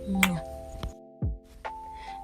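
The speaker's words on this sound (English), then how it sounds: "turn on the notification bell" A chiming notification bell sound effect with bright tonal dings and short whooshing sweeps layered over sustained tones, all close and clean with no talking.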